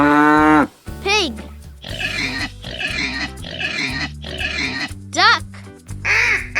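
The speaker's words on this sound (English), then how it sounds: "Pig." Pig oinking and grunting in a rapid, uneven string of short nasal snorts, fairly close and steady, over a soft musical backing, with brief rising sweeps near the start and end.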